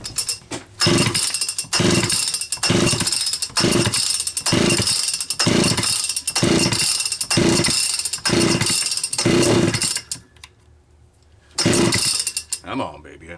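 A Homelite Super XL-925 chainsaw on a cold morning is yanked repeatedly with its pull cord, each loud rhythmic rasping pull near and harsh, then a pause and another burst as the engine tries to fire.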